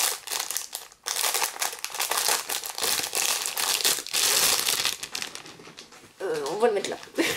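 A small marble-patterned pouch holding a makeup brush set is opened by hand, giving close, dense crinkling and rustling that runs almost continuously with a few short pauses, louder bursts in the middle, and a brief squeaky rub near the end.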